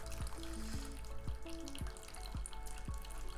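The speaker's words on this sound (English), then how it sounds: "I'm gonna water this. Enjoy the ASMR water noises." Water poured over potted houseplants in heavily draining soil, running straight through: a steady splashing, trickling wash with several soft drips and low glugging pulses, close and continuous.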